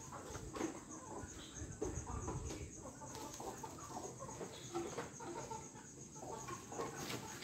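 Chickens cluck faintly in the background at dusk behind a house, with scattered short calls, alongside insect chirping and distant ambient noise.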